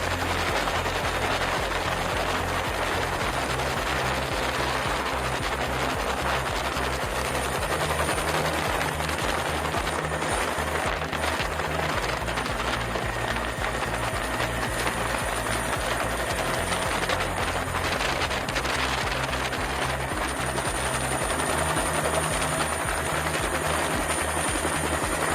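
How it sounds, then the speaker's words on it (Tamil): A rescue helicopter flies steadily overhead during storm relief, its rotor thumping and turbine whine forming a continuous, moderately loud drone throughout, with no one talking. "ஹெலிகாப்டர் பிரிவு ஒன்று மீட்பு பணியில் ஈடுபட்டுள்ளமை குறிப்பிடத்தக்கது"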